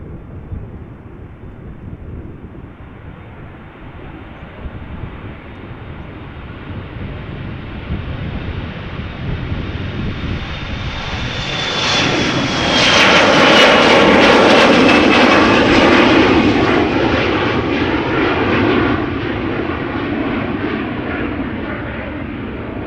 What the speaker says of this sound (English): KLM flight 945 going to Dublin. It is an Embraer 175, 5 years old.